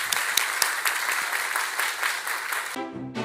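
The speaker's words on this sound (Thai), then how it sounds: "อยากให้พี่น้องทั้งหลายปรบมือเป็นเกียรติกับท่านอีกครั้งนะครับ" Audience applause at a Thai award ceremony honouring journalists, a steady patter of many hands with a few sharper claps, cutting off abruptly near the end before a brief musical tone.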